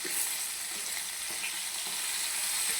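Fish fry in a pan with a dense, loud and steady sizzle that continues evenly throughout, with faint stirring or turning noises underneath and no talk.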